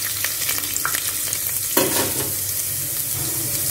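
Chopped ginger and garlic sizzle steadily in hot oil in a pan while being stirred, with scraping strokes and one brief louder clatter, up close and without talk.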